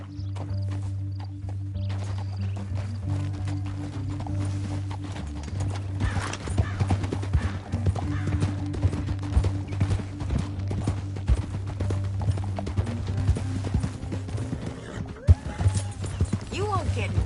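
Horse hooves clip-clopping in Red Dead Redemption 2, a steady rhythmic trot close by over a low rumbling game soundscape, with neighs and a voice speaking partway through.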